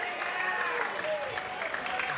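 A crowd applauds steadily at the finals of a bowls championship at Moama Bowling Club, a dense continuous patter of clapping with a commentator talking over it.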